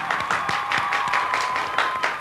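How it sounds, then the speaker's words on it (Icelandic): An audience claps together, its dense clapping marked by distinct louder hand-strikes recurring at a brisk, uneven pace throughout. "Gefið þeim gott klapp!"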